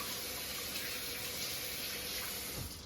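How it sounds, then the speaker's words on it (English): Tap water runs steadily into a kitchen sink during handwashing, a soft continuous splashing hiss, fairly faint and unbroken, with no talking. "Gonna wash my hands."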